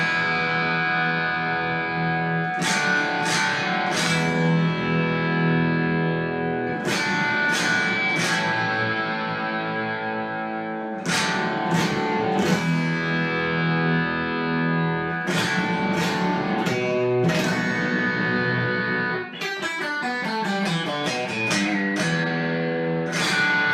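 Distorted electric guitar plays a song: loud, heavily effected chords struck in groups and left ringing with reverb, ending in a rapid tremolo-picked flurry, with no talking.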